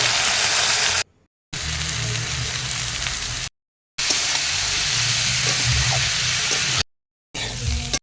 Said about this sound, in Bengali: আমি কড়াইতে সবজি সব দিয়ে আবারও পাঁচ মিনিট ভাজবো